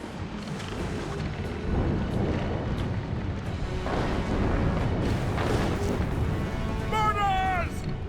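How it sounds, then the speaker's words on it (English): Naval cannons boom from warships in a sea battle in the Assassin's Creed Rogue video game, with dull repeated blasts in a continuous roar of battle, under shouting voices, and a whistling sound near the end. "They are firing! Hostile warships!"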